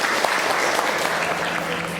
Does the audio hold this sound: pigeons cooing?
no